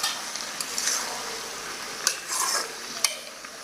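Potato, papaya, beans and bottle gourd are stirred in a pan over a soft sizzle of frying, with a few scraping strokes and light clinks of the spoon against the metal, close and moderately quiet.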